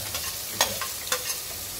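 Chopped onion stirred and fried in a pan until reddish-brown, a soft steady sizzle broken by a few short scraping strokes of the spoon, close and fairly quiet.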